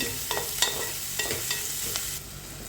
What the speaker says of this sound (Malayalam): ഇഞ്ചി വെളുത്തുള്ളി ചതച്ച് വെച്ചതുണ്ട് അതിടാ നന്നായി ഇളക്കിയതിൻ്റെ പച്ചമണം മാറട്ട്